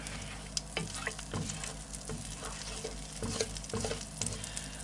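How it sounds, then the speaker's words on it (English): Soft, continuous sizzling and crackling from a hot pan, with small pops and occasional scraping, quiet and close. "you can see it's sizzling there a little bit"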